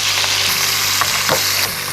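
Steady, close sizzling of chicken frying in a pan, with a few soft scrapes as it is stirred.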